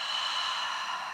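A forceful, steady exhale through the mouth during a foam roller spine exercise, close and breathy, lasting just over a second before cutting off.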